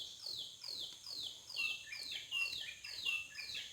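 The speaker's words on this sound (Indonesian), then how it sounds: "kalau di daerah kami ini namanya burung punai siul" A punai siul green pigeon calls near a fig tree with a run of descending whistled notes. The notes repeat steadily at moderate volume and are heard alone, with no talking.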